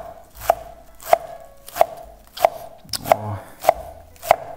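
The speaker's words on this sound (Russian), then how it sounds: "И нарезаем все это не сильно мелко." A knife chops fresh basil and cilantro on a board for a Georgian salad, with seven crisp evenly spaced strikes close up and little else around them.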